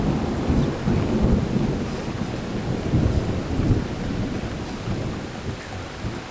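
Rain at night in New York City, a steady heavy downpour with a deep rumbling undertone like thunder, continuous and close, with no talking.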